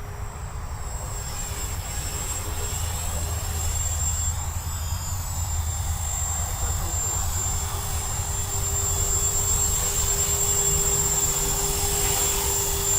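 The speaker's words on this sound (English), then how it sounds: "It's a nice little flying helicopter." A small remote-control toy helicopter's rotor whines steadily at a high pitch over a low engine-like drone, close and constant throughout.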